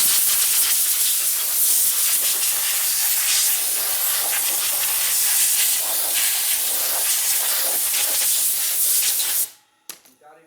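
Compressed air nozzle blasting a steady, loud hiss at close range while cleaning a Harley FL shovelhead big-bore stroker motor, cutting off abruptly near the end.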